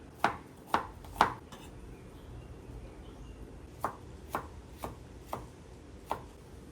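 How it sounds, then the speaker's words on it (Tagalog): Knife chopping chilies and spices for chicken tinuno-an on a board, three quick sharp chops, a pause, then five more evenly spaced strikes, close and moderately loud over a faint room hum. "Maghiwa na ta sa atong mga lamas."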